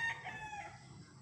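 A gamefarm rooster, one of a flock of derby chickens, gives a single loud, close crow that rings for about a second and fades out at the end.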